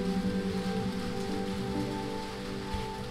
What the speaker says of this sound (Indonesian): pagi ni hujan